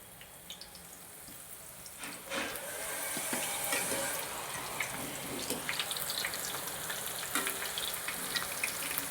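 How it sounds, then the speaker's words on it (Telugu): Soya chunks coated in cornflour deep frying in hot oil, a steady dense sizzle and crackle with scattered pops, fairly close and with no talking. "ఈ కార్న్ ఫ్లోర్ వేసిన సోయా చంక్స్ని లైట్ బ్రౌన్ షేడ్ వచ్చే వరకు వేపుకోవాలి"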